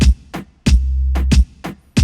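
A reggaeton beat made in Studio One 4 with an added layered kick: punchy kicks with long sub-bass tails and crisp snare cracks repeat in a tight dembow groove, loud and isolated with no talking.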